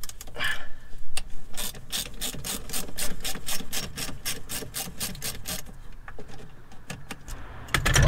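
A ratchet loosens valve cover bolts on a Mazda Bongo engine, giving quick runs of close, crisp clicking pawl strokes, pausing and restarting, with no talking.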